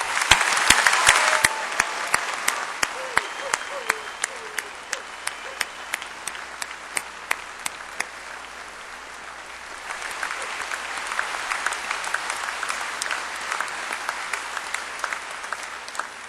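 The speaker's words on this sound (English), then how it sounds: "I invite those in attendance to join me in applauding your success" An audience applauds graduates at a spring 2005 Dakota State University commencement, a loud burst of clapping that fades to scattered claps punctuated by sharp single claps, then swells back into fuller applause near the end.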